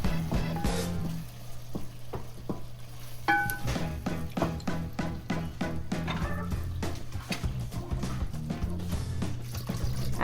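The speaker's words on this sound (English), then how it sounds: "Next, I add the tomato sauce." Tomato sauce poured into a pan for an eggplant lasagna meat sauce, a thick liquid glugging and splattering with soft stirring and sizzling clicks, moderately quiet and steady throughout.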